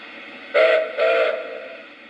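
A model train whistle sounds two close blasts, the first short and the second longer and fading, steady and clear with no talking.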